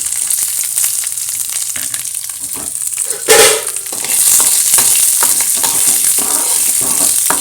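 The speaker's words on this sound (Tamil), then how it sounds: "வெங்காயம் நல்லா வதங்கணும்" Chillies, garlic and ginger frying in a pan for a carrot chutney, with a close, steady sizzle and a sudden louder hissing burst midway, after which the frying stays brighter and fuller.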